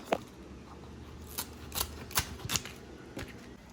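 Turmeric leaves being roughly cut with a knife in a kitchen, a handful of crisp, quick slicing snips spaced irregularly, close and fairly quiet against a low background hum.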